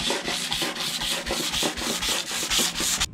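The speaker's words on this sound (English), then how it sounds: "we're gonna sand it first" Rhythmic back-and-forth sanding strokes rub across a painted wooden table, roughly a dozen even scrapes in steady succession, close and fairly loud with no talking.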